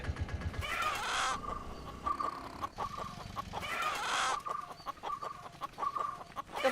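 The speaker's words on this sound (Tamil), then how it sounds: "சேவல் சவுண்ட் பயங்கரமா கேக்குதுங்க." Rooster clucks and short crowing calls come through amid busy background noise, with a steady mid-pitched tone running underneath.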